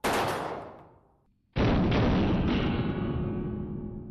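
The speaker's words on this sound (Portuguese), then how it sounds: "a Kalashnikov pode disparar um único tiro ou entrar em modo metralhadora" An AK-47 Kalashnikov rifle in 7.62×39 mm fires two loud, close blasts. The first fades out, and the second is followed by a long, rolling echo that slowly decays.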